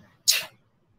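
A group of people sneezing together on cue during a children's story session, one short burst of sneezes, close and fairly loud, standing alone in an otherwise quiet moment.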